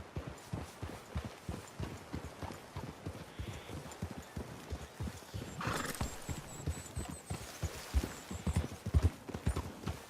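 Hooves clip-clop in a steady rhythm from a horse in Red Dead Redemption 2, with a neigh partway through and snorting near the end, fairly quiet and close with no talking.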